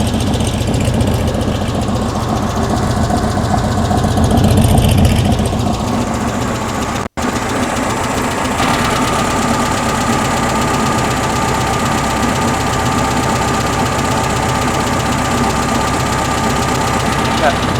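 The air-cooled engine of a 1974 VW Beetle idles while warming up, a steady rough chugging hum with a faint knock, running continuously and fairly loud, with a brief dropout partway through.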